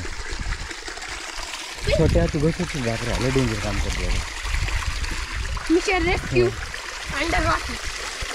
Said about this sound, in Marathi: बघा इकडून पाणी ते जंगलामधून खाली इकडे